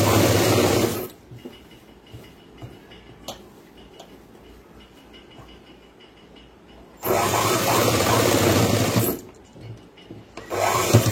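A sewing machine runs loud bursts of stitching on boys' school uniform pants, whirring steadily for about a second, pausing for several seconds of quiet fabric handling, then running again in two longer bursts.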